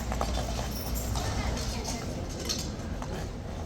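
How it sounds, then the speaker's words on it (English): An agitated horse stamps its hooves at a law enforcement motorcycle club gathering, with clopping hits buried in a dense, continuous wash of nearby crowd and outdoor noise. "Horse on the left's having a meltdown."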